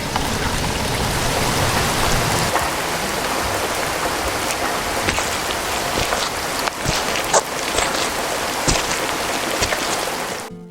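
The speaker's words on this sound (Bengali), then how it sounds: "আরে বৃষ্টি শুরু হয়ে গেল," Steady rain begins falling outdoors on a dark-clouded day, a dense even hiss of drops with scattered louder patters on nearby surfaces, continuing unbroken with no voices.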